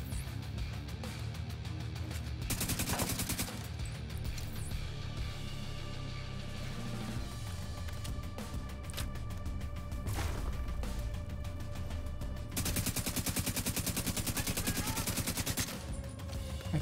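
Rapid bursts of automatic gunfire in The Division 2 video game, dense rattling volleys with pauses between them, loud and close, with no talking.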